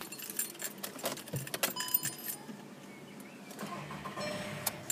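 A manual petrol Volkswagen Polo Match 60: keys jangle close by, then the engine cranks and catches into a low, steady idle.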